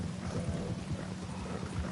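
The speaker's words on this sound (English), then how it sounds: "It's all raining again." Rain and rolling thunder from the video game Red Dead Redemption 2, a steady, dense wash of falling rain with low rumbles underneath, continuous and fairly even throughout.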